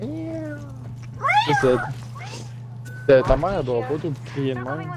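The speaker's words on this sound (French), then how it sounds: "non, ça c'est un chat." A cat meows several times in drawn-out, rising and falling cries during online game play, with a steady electronic hum underneath and a person speaking French over parts of it.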